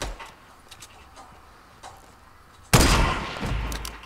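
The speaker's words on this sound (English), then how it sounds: "So then I finished him off right there with a legendary sniper" A legendary sniper rifle fires in Fortnite, a single sharp loud report after quiet faint clicks, with the blast's tail decaying over the following second.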